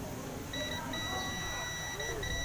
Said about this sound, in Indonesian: napapansin nyo na napuputol yung buzzer